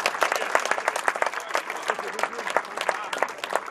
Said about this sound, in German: den wir jetzt mit einem kräftigen Applaus begrüßen